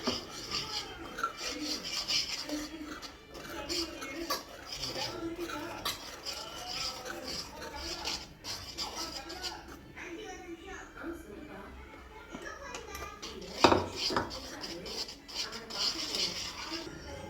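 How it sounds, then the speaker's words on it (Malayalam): Plum cake batter being stirred and folded with dry ingredients in a bowl, close rasping and rubbing strokes in an uneven rhythm with occasional clinks, while someone talks throughout. "ഇത് നന്നായി ഒന്ന് ഇളക്കാം"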